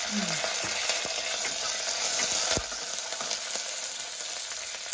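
Green chillies fry in hot oil on top of spice tempering and curry leaves, giving a constant loud sizzle with scattered spits and a brief clink of a utensil, with no talk.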